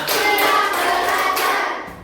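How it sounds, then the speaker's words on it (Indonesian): A group claps their hands together in a counted classroom clapping routine, producing a continuous dense patter of claps at steady volume that fades out near the end, with no talking. "Tepuk 1, tepuk 2, tepuk 3, tepuk 4, tepuk 5"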